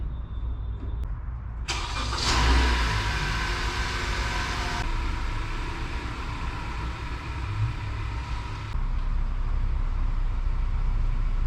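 A car starting up and idling in a garage, with a sharp crank and catch giving way to a steady close engine hum that carries on to the end, with no talk over it.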